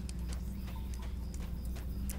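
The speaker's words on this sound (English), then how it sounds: "here's the other skeleton horses" Skeleton horse hooves clip-clop in a quick steady rhythm in Lord of the Rings Online, close and moderately loud over a constant low game ambience hum.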